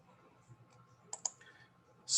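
A computer mouse gives two quick, faint clicks close together in a quiet room, followed by a brief louder click-like burst at the end.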